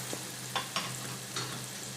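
Onions soften gently in a pan over a low, steady sizzle, with a few short clinks and scrapes of stirring and no voices.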